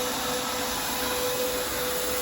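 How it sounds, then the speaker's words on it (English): A pond vacuum sucking debris off the bottom of a fish pond, an unbroken whining motor drone with a steady tonal hum, even and close throughout. "So now what I'm doing is literally giving the pond a vacuum."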